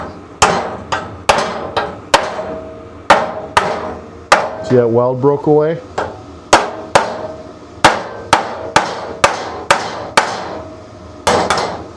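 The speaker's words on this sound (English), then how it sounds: "We might need to get the little hammer and do a little tap tap." Sharp metallic taps of a small hammer on metal ring out in a steady rhythm, around eighteen strikes, close by, pausing briefly while a person speaks, during a race tractor build.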